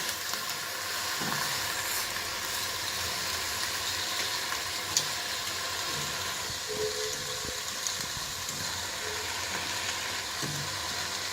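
Beef shoulder cooking in a pot with no water, giving a steady close sizzle and frying hiss with scattered stirring clatter, alone without talk.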